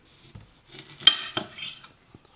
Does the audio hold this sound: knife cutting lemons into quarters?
yes